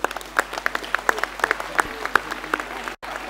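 Scattered, fairly sparse claps from an audience at a mayor's New Year's greetings speech, irregular and moderately close, with a faint bed of room noise behind them.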